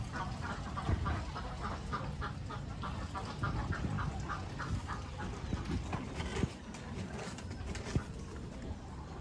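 Khaki Campbell ducks on a pond-system duck farm keep up a dense, continuous chorus of quacking and clucking calls, a flock sound steady throughout with no talk.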